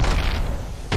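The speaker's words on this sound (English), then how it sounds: "Frag out." A frag grenade goes off in Apex Legends, a deep booming blast that rumbles for about a second, with a second loud thump right at the end, no talk over it.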